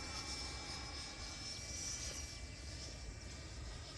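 A Freewing F-16 v2 90mm electric ducted-fan RC jet on its maiden flight makes a steady, distant whooshing whine while passing along a runway, faint and continuous throughout.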